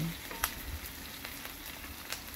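Chopped onion and garlic sauté in olive oil, a soft steady sizzle with a few quiet clicks of stirring against the pan.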